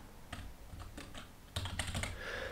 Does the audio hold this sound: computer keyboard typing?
yes